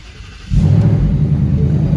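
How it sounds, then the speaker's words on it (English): The supercharged Roush engine of a 2021 Ford Mustang GT fires up after half a second of quiet, then settles into a loud, deep, close rumbling idle. "I'm gonna go ahead and start the car up for you guys"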